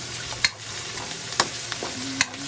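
Sliced mushrooms sizzle in a frying pan for carbonara, a steady moderate hiss broken by three sharp clicks of a utensil against the pan.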